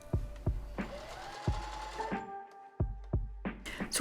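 A sewing machine stitches across the top of a skirt to fix its pleats: close, rapid mechanical whirring in two runs, broken by sharp clunks and thumps as the fabric and machine are handled.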